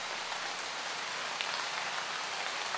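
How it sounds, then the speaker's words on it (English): Light rain falling steadily, a dense, even hiss of drops pattering on surfaces, constant and moderately loud with no voices. "We have the rain light sound."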